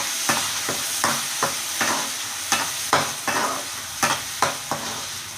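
A spoon scrapes and stirs in a pan with a rhythmic series of clinks over a steady, close sizzle of masala frying for fish curry.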